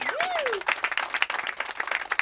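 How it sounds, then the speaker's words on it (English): Audience applause for a small live band at the OutWest concert series, dense clapping from a moderate crowd running steadily throughout, with a brief whistle near the start. "Please give up a little applause for them."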